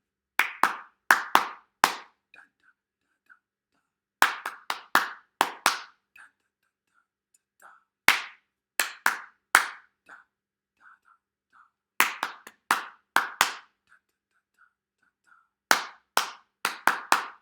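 Hand claps in short rhythmic phrases of three to five sharp, close claps, separated by pauses with faint whispered voices in between, the pattern repeating several times for a clap-back game.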